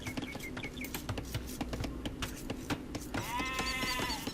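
Sheep bleat in a real-time strategy game amid busy clicks and tapping game effects, with a louder, wavering bleat near the end rising over the clatter.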